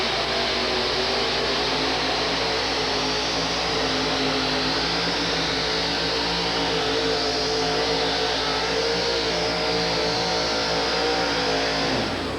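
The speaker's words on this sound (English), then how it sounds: "Mike cleans the motor out real well and watch the front end go up on Chi-Town." A monster pulling truck, Chi-Town Hustler, roars at full throttle while dragging a sled at the 1987 USHRA truck and tractor pull championships in Pittsburgh; the loud engine drones steadily and without a break for the whole stretch.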